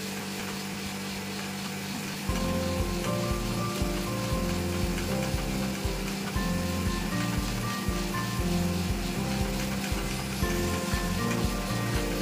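Fish curry sautés in a pan, giving a steady dense sizzle and crackle throughout, joined by a faint repeating pulsing rhythm after the first couple of seconds.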